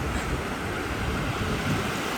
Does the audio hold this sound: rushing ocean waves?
yes